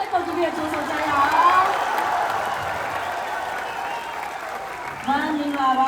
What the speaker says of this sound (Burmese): အားလုံးလည်းလက်ခုပ်တီးပြီးကြိုးဆိုကြရအောင်